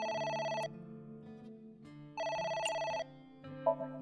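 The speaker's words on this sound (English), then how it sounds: "It's the phone." A telephone rings in the video game AI: The Somnium Files, two loud bursts of trilling electronic rings separated by a pause, with quiet background music between them.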